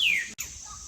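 A bird in a sanctuary enclosure gives a single high, descending call, clear and close, followed by a brief click and quiet background.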